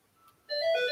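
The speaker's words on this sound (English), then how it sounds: "Your phone's ringing again." A phone rings with a bright electronic tone that starts abruptly halfway through and continues steadily at close range, with no talking.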